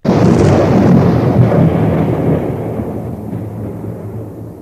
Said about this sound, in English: After a moment, there was a big explosion.